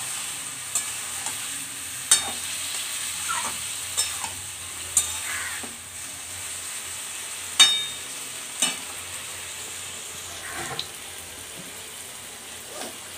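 Boiled potatoes and peas fry in a pan with a soft, steady sizzle, while a spatula stirs and taps the pan in intermittent clicks and scrapes, fairly quiet and without talk.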